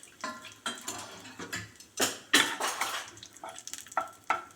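A pan of ingredients roasting in ghee, with frying sizzle, spoon stirring and scraping against the metal pan, and a few clinks, close and moderately quiet.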